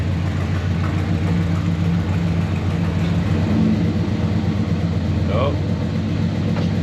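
A car with a 454 big block engine drives along with a steady, loud, rumbling drone and a shift in tone as it changes gear, while people talk over it.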